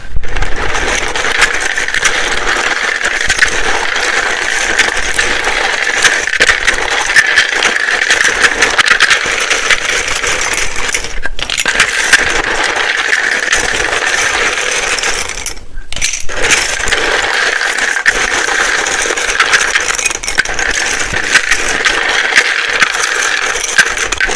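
Tarot cards are shuffled loudly and continuously, a dense rattling clatter that goes on for the whole stretch with only a couple of brief pauses, up close with no talking.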